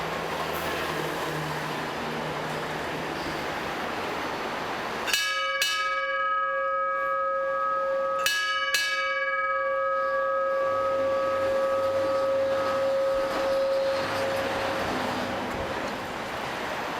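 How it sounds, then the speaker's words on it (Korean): Bells ring before the noon gun in Hong Kong: two pairs of clear metallic strikes with long ringing decay, heard over steady traffic and city rumble. "정오가 가까워지면 먼저 종소리로 정오가 되어감을 알린다."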